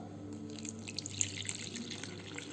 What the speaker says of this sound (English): So first I am adding 1 glass of water